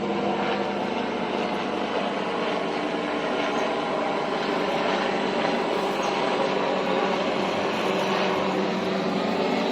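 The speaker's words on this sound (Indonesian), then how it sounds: "Kayak helikopter lagi tuh." Steady helicopter engine drone with a rotor-like rumble fills the whole stretch, loud and continuous, as the helicopter passes overhead near rice fields by Borobudur, Indonesia.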